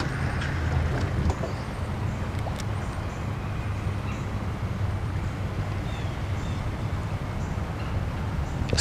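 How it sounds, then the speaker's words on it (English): Large fans blowing over a golf course by a river, heard as a steady, jet-like broadband roar that holds constant throughout, with no talk over it. "Going by the golf course right now, they got the fans blowing up there."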